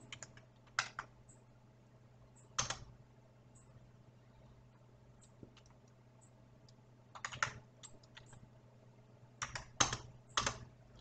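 Bursts of computer keyboard typing while entering an R command, quick clusters of clicking keystrokes separated by quiet pauses, close and soft over a low steady hum.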